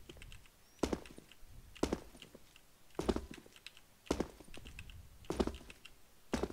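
Spacebar presses on a computer keyboard, up close, landing as sharp clacks roughly once a second with softer keyboard clatter between them.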